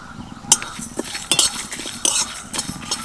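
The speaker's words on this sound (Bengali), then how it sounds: "এই মশলাগুলো খুব ভালো করে ভেজে নিয়েছি" Spices fry in a pan for fuchka seasoning while a metal spoon stirs them, producing clinks and scrapes against the pan over a faint sizzle, close and without speech.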